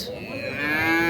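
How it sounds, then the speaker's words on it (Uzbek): A cow at a livestock market lets out a single close, drawn-out moo that rises and swells in loudness. "Mana sigirimiz"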